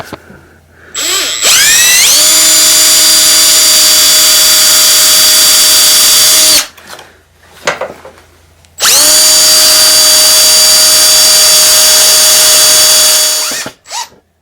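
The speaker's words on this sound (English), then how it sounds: "you're going to want to drill a hole right through there" A small bit drilling through an indoor cycling roller during a DIY build: the loud, close power drill whines steadily for about four seconds, stops briefly, then runs again for another five seconds before winding down.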